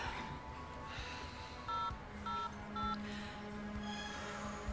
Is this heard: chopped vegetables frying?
no